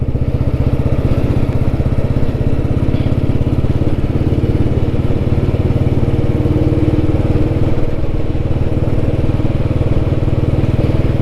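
A vintage Royal Enfield Bullet motorcycle runs steadily with an even, thumping single-cylinder note, loud and close throughout, with no voices.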